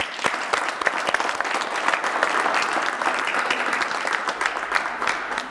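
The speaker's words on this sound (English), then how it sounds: "They deserve a round of applause." A crowd claps steadily in a dense, even burst of applause, close and sustained throughout, with no voices standing out.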